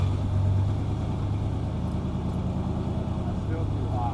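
A car engine idles right after being fired up, a steady low rumble with a running air filter problem, while people talk over it close by.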